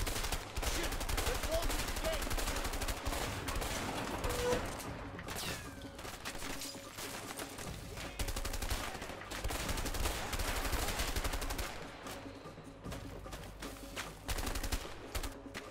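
Dense, continuous gunfire in the video game A Way Out, loud and sustained rattling bursts with scattered louder shots that drown out most other sound.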